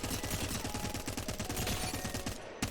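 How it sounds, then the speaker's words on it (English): Dense, rapid gunfire from the Flatline rifle in Apex Legends, fired in single fire mode, with loud repeated shots in a steady driving rhythm that runs without a break and pauses only briefly near the end. "you can just destroy people with the Flatline in single fire mode"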